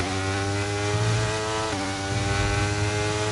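A Red Bull Honda Formula 1 engine in the racing game F1 23, a loud, harsh, buzzing high-revving whine with stacked harmonics, held steady with a slight dip and surge midway, with no talking.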